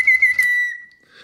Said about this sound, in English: air is able to flow to the whistle on both the upstroke and the downstroke